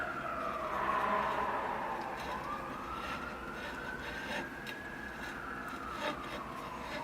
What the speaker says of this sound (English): Still sirens going.